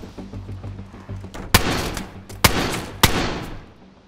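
Three sharp gunshots ring out in the DayZ Standalone video game, spaced about a second apart, each loud crack followed by a decaying echo, over quiet ambient background.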